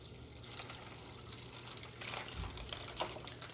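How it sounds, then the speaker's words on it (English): Water being poured into a cooking pot for noodles, a steady running splash with a brief deeper gurgle midway, close by with no talking. "So we'll go ahead and put the water in there."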